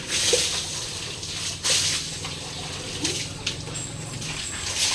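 Water splashing as a water buffalo is bathed outdoors: irregular splashes and pours over a constant run of water, close by, with no talk.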